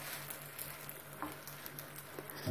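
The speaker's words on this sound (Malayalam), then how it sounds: "ഇപ്പോൾ ചൂടായ തവയിലേക്ക് നമ്മൾ പരത്തി വെച്ചിരിക്കുന്ന ഷീറ്റ് അങ്ങ് ഇട്ട് കൊടുക്കാവേ" A thin spring roll sheet sizzles on a hot tawa, giving a steady, soft frying crackle close up with a faint low hum underneath.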